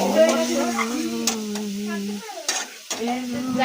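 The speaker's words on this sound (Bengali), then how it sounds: "রসুন দিয়ে প্রথমবার পালং শাক ভাজা।" Spinach fries with garlic in a pan, a soft sizzle with scraping stirs close by, while a person speaks over much of it.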